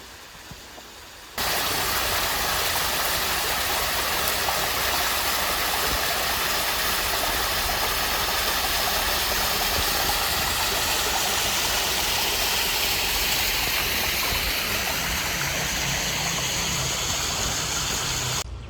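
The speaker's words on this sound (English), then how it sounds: "The trail continues on, but we are at the falls." A waterfall on a shaded Smoky Mountains hiking trail beside a river, a loud, constant rushing roar of falling water heard up close that begins suddenly and holds steady to the end.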